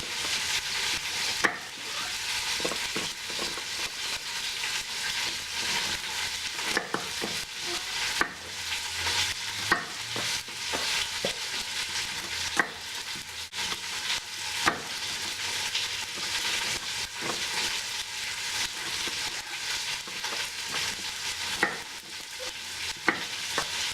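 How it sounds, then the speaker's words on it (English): A beef pot roast browning in a pressure cooker pot sizzles loudly and steadily and close up, broken by occasional sharp clicks and pops. "the roast has been going for about 4 or 5 minutes now, and I'm going to go ahead and flip it over and brown the other side"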